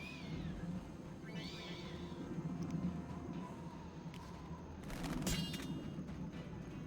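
Cat meows from a video game arrive as a couple of short, high, mid-loud calls early on, over a steady noisy game backdrop with a brief burst of sharper sound later.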